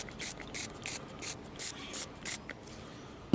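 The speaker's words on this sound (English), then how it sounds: "Alright, so now I'm going to spool it" A fishing reel being cranked to spool line, its mechanism giving off bursts of ratcheting clicks in an uneven rhythm, close up and without speech.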